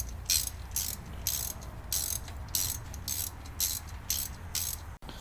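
Ratchet wrench working on spark plugs of a 1963 Chevrolet Impala, close-up bursts of rapid clicking repeating about every half second in a steady rhythm, alone with no talk and a faint background hum.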